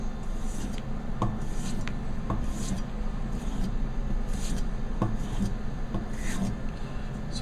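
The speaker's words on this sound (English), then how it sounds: "So it's slicing through it that way really easily." A ZHEN VG-10 67-layer Damascus gyuto chef knife, 9.5 inches, slicing through a potato: repeated short, crisp cutting strokes over a steady rubbing background hum, close and moderately loud.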